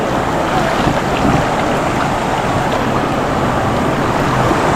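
Steady broadband rushing of water from the Mampurog River in Daet, Camarines Norte, loud and close, flowing without pause throughout.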